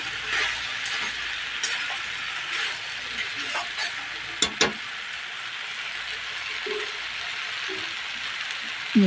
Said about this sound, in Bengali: ডালটা দিয়ে এখন ভালো করে আমি নেড়ে দিচ্ছি